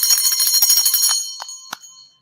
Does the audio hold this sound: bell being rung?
yes